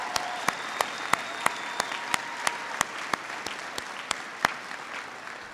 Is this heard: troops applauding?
yes